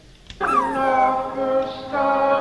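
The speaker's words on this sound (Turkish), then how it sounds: "Burada köpek ağlama sesi var." A dog whimpers in a high, wavering whine, close and clear, rising then falling, with a short pause before a second plaintive whimper.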